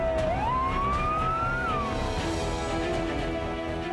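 A fire engine's loud wailing siren rises and falls in pitch, close by and continuous, over a dense rumble of traffic noise, at a large fire in Mojokerto.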